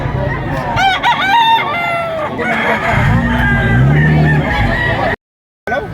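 A rooster crows loudly nearby at a poultry market, followed by clucking and other fowl noises, with a brief cut to silence near the end.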